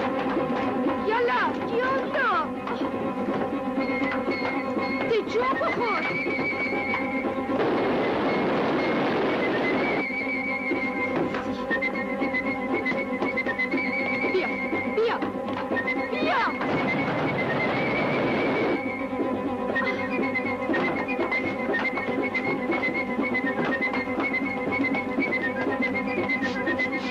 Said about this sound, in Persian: الان قطار میرسه